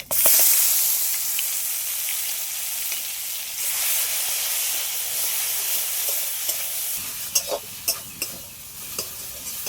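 Coconut paste goes into hot frying oil with nigella seeds and gives a loud, continuous sizzle and hiss. Sharp clinks and scrapes from stirring come in near the end.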